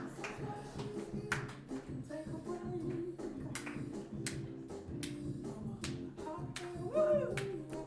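Rhythmic clapping from an audience at a Geneva event, regular sharp claps over a steady backing of music, moderately loud with no talking.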